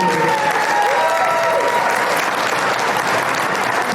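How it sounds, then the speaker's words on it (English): Sustained applause fills a room at a chamber of commerce annual banquet, dense and steady throughout. A few faint voices and cheers rise briefly within it. "Please give this wonderful group a big round of applause for all of you."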